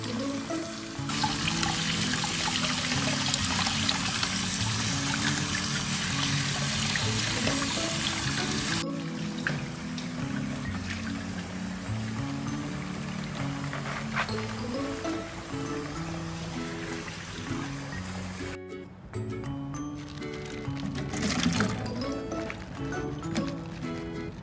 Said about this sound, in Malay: Lalukan air di bahagian celah-celah untuk memastikan tiada kotoran ataupun ulat sayur